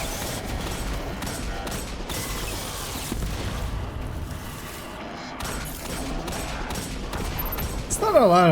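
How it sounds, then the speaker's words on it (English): Hand cannon gunfire in the shooter game Destiny 2, with loud, dense repeated shots and booming impacts running throughout amid busy game effects, rising at the very end. "It's not a lot of recoil for a hand cannon."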